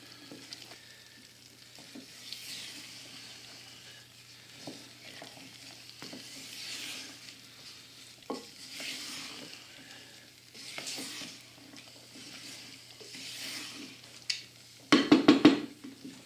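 Soft scraping and swishing of a spoon stirring sugar in a saucepan for homemade pralines, steady and close, ending with a brief burst of louder clatter.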